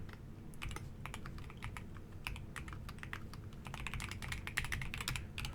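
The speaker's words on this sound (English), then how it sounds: "you'll see here, as I type" Rapid typing on a computer keyboard, with steady clicking keystrokes over a low background hum, close and continuous without any talking.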